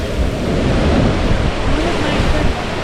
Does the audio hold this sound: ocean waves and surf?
yes